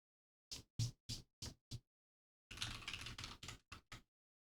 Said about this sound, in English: Fucking hate this keyboard.